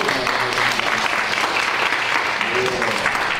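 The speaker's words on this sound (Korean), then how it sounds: "우리 이종환 목사님에게는 감사합니다라고 하는 마음을 가지고 우리 박수로 한번 하나님께 영광을 드리고" Loud, dense applause from an audience at a church youth camp worship service fills the whole stretch, steady and close.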